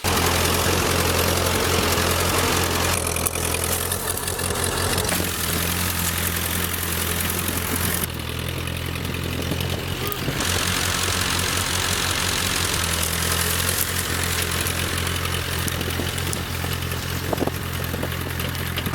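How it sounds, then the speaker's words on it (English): A rototiller's small gasoline engine idles roughly while its carburetor screw is adjusted, a loud, close, steady chugging drone that shifts slightly in pitch and tone partway through, with no voices. "There's a screw on the carburetor that I need to mess with to get this thing to idle correctly."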